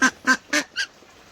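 Ducks bought at a market on a rainy day honk loudly and close by, giving four quick, evenly spaced nasal calls followed by silence.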